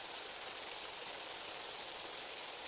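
Steady rain pours down over a deserted cartoon vegetable market left muddy and waterlogged, a continuous even hiss of falling drops with no voices.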